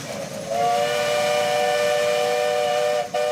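The steam whistle of the Greif, Switzerland's oldest steamship with a nearly 120-year-old engine, sounds on Greifensee in one loud, steady, sustained blast that holds for almost three seconds before a brief break.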